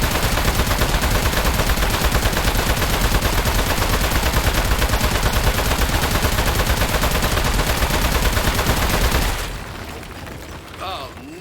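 Continuous rapid gunfire from the video game Aperture Desk Job, loud and dense for about nine seconds before cutting off abruptly, followed by quieter game sounds.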